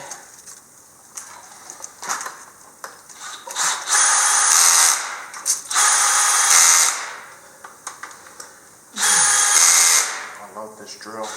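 Power drill running in several long, loud bursts of a few seconds each while an input shaft is fitted, with short pauses, clanks of tools and people talking between bursts.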